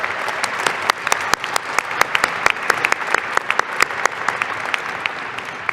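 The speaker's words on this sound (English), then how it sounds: "Please join me in a round of applause." Audience applause at a 2024 summer/fall commencement ceremony, a steady dense patter of many hands clapping for nearly six seconds, with sharper individual claps standing out near the front.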